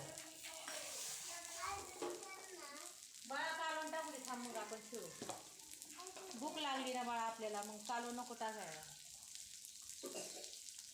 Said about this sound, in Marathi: आता मस्तपैकी हा मसाला परतून घेऊया आपण थोडंसं तेल टाकते बघा